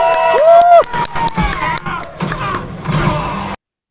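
Packed cinema audience erupting at the chicken jockey scene of the Minecraft movie, loud close shouting, whooping and cheering from kids and adults, a piercing sustained yell early on, the din cutting off abruptly.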